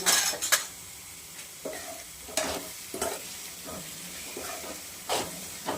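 Chopped garlic tipped into a hot pan of fenugreek greens and stirred, a steady sizzle under repeated scraping and clinking of a spoon against the pan, close by.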